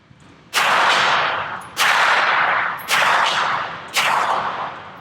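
Beretta MX4 Storm submachine gun firing on full auto in four loud, close bursts, each about a second long with a sharp onset and a quick rapid-fire rattle, spaced by brief pauses.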